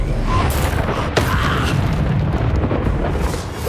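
Fiery spell blasts boom in a wizarding combat video game, loud and continuous with a sharper burst near the middle over a low rumbling roar throughout.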